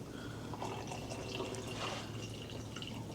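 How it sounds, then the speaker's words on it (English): Hot water poured from a kettle over a tea bag in a mug, a soft steady trickle and splash running close by for a few seconds with no talking. "Pouring it over the tea bag."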